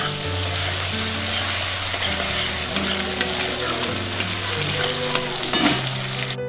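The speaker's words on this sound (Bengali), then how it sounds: "প্রথমে আমি পেঁয়াজ আর টমেটোটা ভালো করে ভেজে নেব।" Onion and tomato fry in a pan, giving a steady, close sizzle while a spatula stirs, with occasional sharp clinks and scrapes and a constant low hum underneath. No one speaks.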